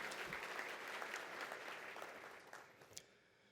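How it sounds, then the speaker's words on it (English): An audience claps in a dense burst of applause that tapers off toward the end, with a few scattered final claps. "So give yourselves a round of applause."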